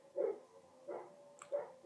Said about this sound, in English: And now the dog is barking.